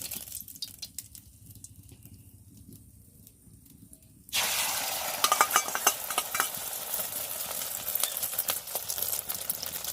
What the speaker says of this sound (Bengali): তেলটাও গরম হয়ে গেছে আমার, এবারে ডিমটা দিয়ে দিই